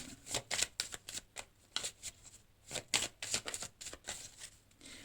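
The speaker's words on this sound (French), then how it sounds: "j'ai trop de cartes qui tombent" Tarot cards being shuffled by hand in a quick, steady riffle of crisp papery flicks, close and continuous, with a few cards slipping out of the deck.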